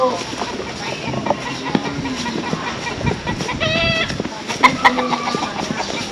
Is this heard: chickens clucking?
yes